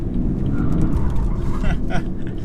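A 2017 BMW 335d diesel on SE springs accelerates hard at full throttle, a loud, steady low engine drone heard from inside the cabin, with a voice talking over it.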